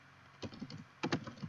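Quiet, close typing on a computer keyboard: two short bursts of several keystrokes each, separated by a brief pause, over faint background hiss.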